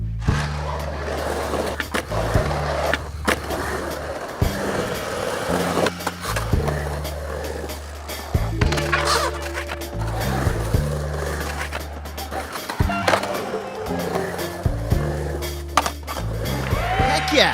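Small fingerboard wheels roll and grind across a miniature transition ramp, with repeated clacks of the board hitting the ramp and trucks scraping over the coping. A fairly loud, steady run of sound carries an electronic music bed beneath it.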